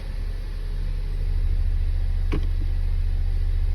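A 10th gen Honda Civic idles in park while the gear selector is moved through reverse, neutral and drive: a steady, close, low engine hum with a slight rise in level partway and one brief click.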